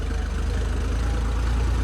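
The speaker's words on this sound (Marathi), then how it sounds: "तरी ट्रॅक्टर चालू आहे ट्रॅक्टर बंद नाही" A tractor engine runs in heavy rain, a steady low throbbing idle that stays even and close throughout, with no voices.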